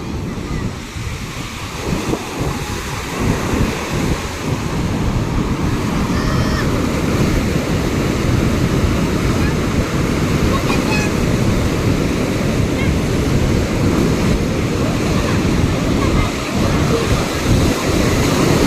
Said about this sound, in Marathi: आता जोरात येईल पाणी.